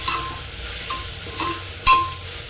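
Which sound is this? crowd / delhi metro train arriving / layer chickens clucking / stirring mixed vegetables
stirring mixed vegetables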